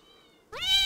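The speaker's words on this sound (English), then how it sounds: "Oh, that's a cat." A cat meows once in the video game Home: a short, rising, fairly loud call that breaks a quiet, faintly humming background near the end.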